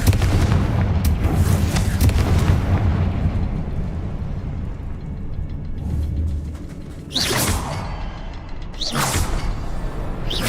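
A fiery blasting spell going off in the Hogwarts Legacy video game, with rumbling mechanical clatter leading into a deep boom and then two sharp, loud explosive bursts near the end.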